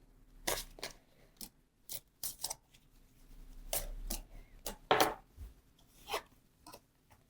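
Tarot cards are drawn and handled in a quiet room, giving soft, scattered papery snaps and slides at irregular intervals, close and faint.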